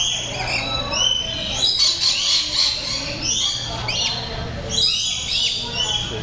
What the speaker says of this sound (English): Lorikeets are very pretty birds.